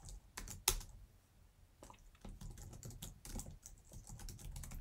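Code being typed on a computer keyboard while building a SwiftUI interface, with irregular runs of close, crisp key clicks and a few louder taps, no voices.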